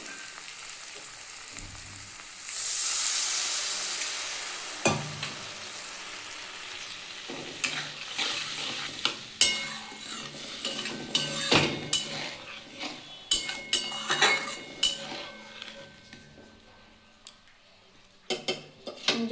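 Water poured into a pan of fried spice paste for a Bengali mustard-oil fish curry with bata fish sets off a loud burst of hissing sizzle, which settles into crackling frying punctuated by sharp clinks of a utensil against the pan.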